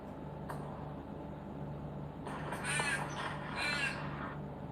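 Ravens cawing outside a home in the evening, a few harsh calls in two clustered bursts over a steady low hum of background noise, moderately distant.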